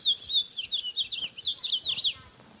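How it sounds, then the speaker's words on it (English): A bird sings a rapid series of high, bright chirps and trills, close and clear, for a couple of seconds against a quiet background. "we have birds that sing when they want to defend their territories or attract a mate"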